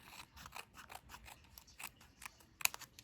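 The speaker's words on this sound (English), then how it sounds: "I'm going to take my little scissors and just trim that off" Small scissors snip away excess material in a run of quick, crisp cuts, close and fairly quiet, with no one talking.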